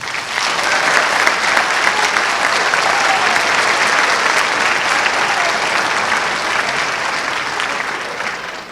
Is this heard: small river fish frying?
no